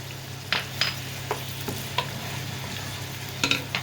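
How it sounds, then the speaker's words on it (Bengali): Ginger garlic paste and salt fry in a pan, a steady sizzle under a low hum broken by scattered scraping stirs and clicks of a spoon. "এটাকে আমি একটু ভেজে নিচ্ছি সুন্দর করে"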